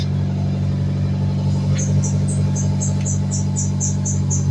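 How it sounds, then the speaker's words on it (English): A Hyundai car engine, 2007–2015 model, idles steadily and smoothly with a constant low rumble, close by and with no other sounds. "We're going to start the car."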